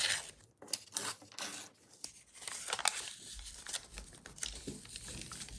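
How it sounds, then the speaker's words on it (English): Paper is torn along a plain ruler in several short rips and crinkles, close and quiet, with small handling sounds between the tears. "I'm just choosing the normal ruler for now, and I'm just going to tear along those lines"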